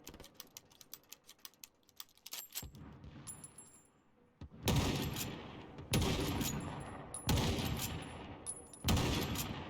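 Gunfire in Call of Duty: Warzone, a multiplayer shooter, comes first as rapid light shots and clicks, then as several heavy bursts of automatic fire, loud and close, with no talking.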